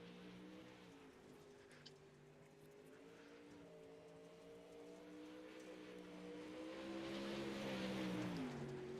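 A Pro Late Model race car lapping Lanier Speedway, its engine a steady, fairly distant drone that rises in pitch and swells louder toward the end.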